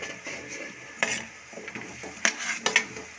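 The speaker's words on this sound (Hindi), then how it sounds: "इन तमाम मसालों को अच्छी तरह से 1 मिनट के लिए इस तरह मसाला भूनेंगे" Vegetable biryani spice masala sizzling and being stirred in a pan, with scraping spoon strokes and a few clinks of utensil against metal over a soft steady fry, close and fairly quiet.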